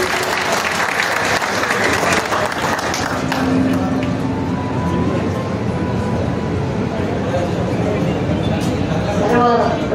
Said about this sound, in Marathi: चला आईसाठी एकदा जोरदार टाळ्या वाजवा.